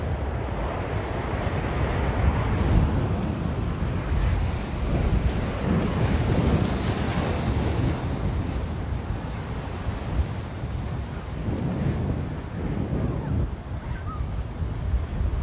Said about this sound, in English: that gives you kind of an idea of how big the wave is